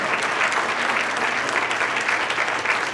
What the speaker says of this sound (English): Please, let's give a round of applause for all of the parade volunteers.